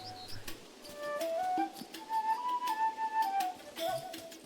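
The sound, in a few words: birds chirping in the video game Tales of the Shire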